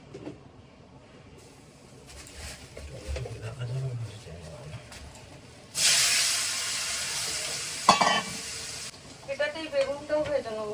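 Potatoes fry in hot oil in a kadai with a loud, bright sizzle that surges midway and then settles, along with a few utensil knocks and some talking.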